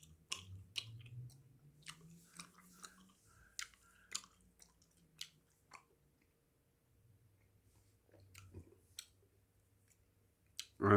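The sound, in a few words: chewing Hubba Bubba Max bubble gum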